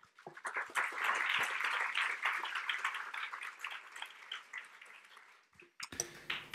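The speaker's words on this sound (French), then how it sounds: "Je vous demande d'applaudir Monsieur Jobert." Conference audience applauds a guest speaker at a French fundraising event, a steady wash of clapping from a crowd that swells quickly, holds, then tapers off before a brief pause.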